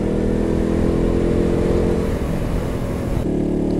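Motorcycle riding through Saranda forest, its engine droning steadily and loudly at close range, with wind rush and no talk.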